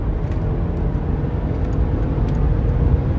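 Mercedes-Benz GLS 550 luxury SUV in sport mode pulling hard under full power, a steady, dense low engine and road roar heard from inside the cabin, holding loud and even throughout with no speech.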